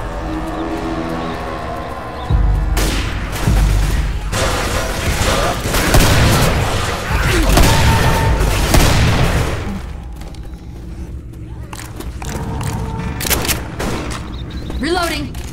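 Bursts of machine gun fire crackle through Left 4 Dead 2 gameplay, rapid rattling volleys and booming shots for about ten seconds, fading to scattered quieter shots, with a voice talking beneath the gunfire.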